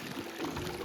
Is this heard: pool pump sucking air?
yes